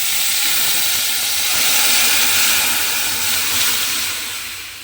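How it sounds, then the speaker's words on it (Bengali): Dal poured into a hot pan of fried onion and garlic bursts into a loud, close, continuous hissing sizzle that holds steady and then gently fades, with no voices. "ডালটা আমি এখানে ঢেলে দিলাম।"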